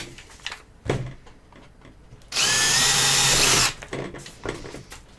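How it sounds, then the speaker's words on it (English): A power drill whirs loudly for about a second and a half, bracketed by quieter knocks and handling noises before and after. "Grab the drill and go through that."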